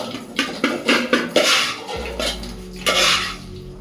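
Moong dal puttu mixed in a pan, a spoon scraping and tapping against the pan in a quick rhythmic run of strokes, followed by a longer sweeping scrape, close and clear.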